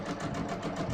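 A sewing machine runs in a quick continuous whir while stitching jeans, close and steady over a brief moment.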